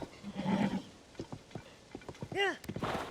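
In Zelda: Tears of the Kingdom, a horse lets out a short, clear neigh near the end, preceded by a run of soft, rhythmic hoof clops and a low snort, with a voice speaking over parts of it.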